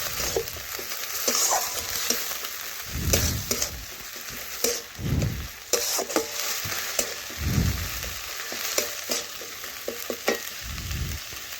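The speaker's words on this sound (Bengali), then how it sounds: "এখন নাড়াচাড়া করে একটু ভেজে নিচ্ছি।" Ginger, garlic and spice paste fries with onion in a pan, a steady sizzle broken by repeated loud scraping strokes of stirring, close and with no voices.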